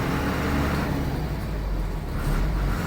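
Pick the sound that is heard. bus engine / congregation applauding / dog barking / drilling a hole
bus engine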